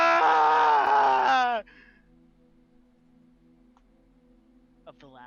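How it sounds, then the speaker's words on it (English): A dying sentinel lets out a loud, anguished wailing cry that breaks off abruptly, leaving a low, steady drone with a faint brief sound near the end. "all you hear are the anguished cries"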